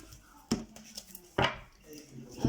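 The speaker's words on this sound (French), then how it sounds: "on va commencer tout de suite avec une coupe" A deck of tarot cards being cut and handled on a table, three soft, brief card slaps and shuffles, close and quiet, with a faint voice in the background.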